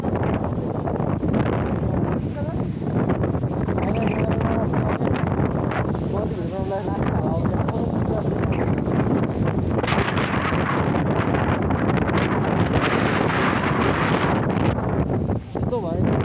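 Strong wind gusting outdoors, buffeting the microphone with a loud, continuous roar that swells and dips, while voices murmur faintly underneath.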